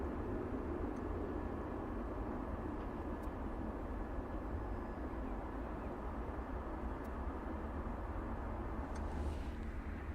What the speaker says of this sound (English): And yet another aircraft on the approach right now.